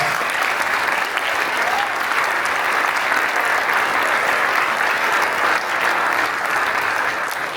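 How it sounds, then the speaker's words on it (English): An audience at a sports mental health and addiction event featuring hockey players gives a big round of applause, loud and sustained, many hands clapping continuously throughout. "So let's give a big round of applause."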